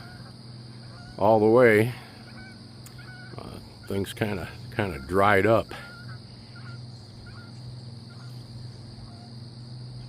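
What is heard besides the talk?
Canada geese honking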